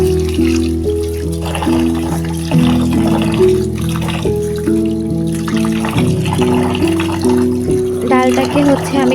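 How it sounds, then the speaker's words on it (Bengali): Tap water runs steadily into a pot while rice is rinsed by hand, with splashing and a clink near the end; a voice talks over it throughout. "এখানে হচ্ছে চালটা ধুয়ে নিচ্ছি"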